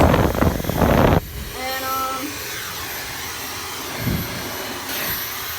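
A Dyson Supersonic hairdryer blows a loud, steady whoosh for about a second, then cuts off, leaving a quieter airy hum and faint tonal whine.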